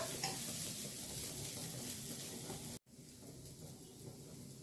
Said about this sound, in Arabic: عايزينه يبقى متحمر، قلبوا فيه شويه